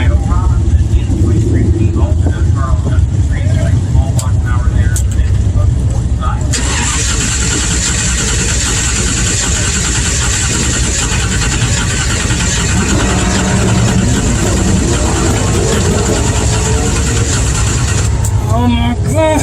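A car stuck in a line of traffic idles roughly and stalls repeatedly, its engine turning over and catching again, loud and close inside the cabin while the driver talks anxiously over it.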